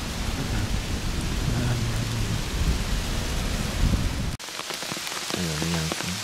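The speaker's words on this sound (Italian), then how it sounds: "Sempre sotto la pioggia," Steady heavy rain pours through an autumn forest on a hillside where porcini mushrooms grow, a loud dense hiss that cuts off abruptly near the end before resuming, with a brief murmur of voices after the break.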